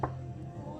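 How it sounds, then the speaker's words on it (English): Fresh burdock roots being chopped with a knife, a single close thunk on the board at the start followed by a faint lingering rustle. "So you just chop the roots, as you can see me now chopping"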